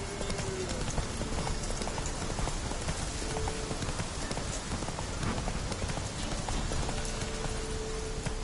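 The horse Roach gallops in The Witcher 3 with quick steady hoofbeats under a dense wash of rain and ambient game noise, at moderate loudness and without a break.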